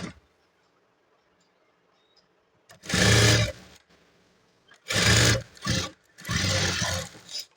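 A sewing machine stitches a plain blouse in three short, loud mechanical bursts separated by quiet pauses, each run a rapid buzzing chatter close at hand.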